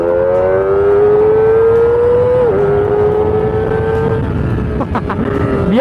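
A Kawasaki ZX25R motorcycle engine holds a loud, steady high-RPM whine that climbs, dips briefly and pulls on again, with strong wind rush under it throughout.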